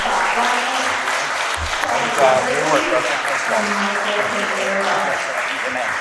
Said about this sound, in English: I'd like to give a big thank you and a round of applause to our incredible presenters tonight.